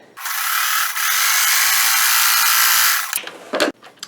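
A sewing machine stitching down a strip of quilt fabric for a bargello-style block, running steadily for about three seconds with a bright whirring hum, then stopping with a few short stutters.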